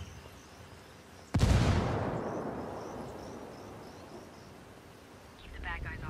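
A single frag grenade explosion in the video game Ghost War, a sudden loud boom that rolls off into a long fading rumble, with a voice speaking briefly near the end.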